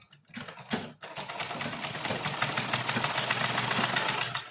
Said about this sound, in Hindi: अब हम इस पे सिलाई लगा लेंगे जिससे कि ये खुले नहीं, यहीं पे सेट हो जाए।